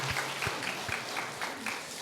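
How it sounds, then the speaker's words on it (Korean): Church congregation clapping in praise to God during a Sunday worship service, a soft, fairly faint spread of hand claps with a few sharper beats, carrying on for a couple of seconds. "하나님께 영광의 박수 한번 올려드리겠습니다."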